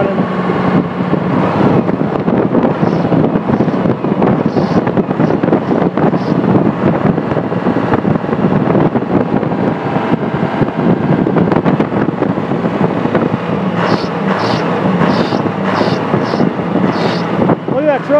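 A truck engine runs with new valve cover gaskets and a belt that no longer squeaks, a loud, steady rumble close to the microphone, buffeted by wind noise, with a person talking over it.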